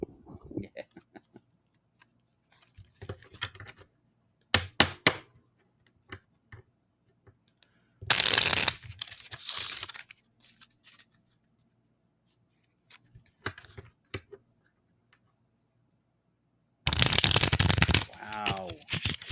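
Playing cards riffle-shuffled close to the mic, in several short dense bursts separated by quieter ticks and light handling, with brief talk in between.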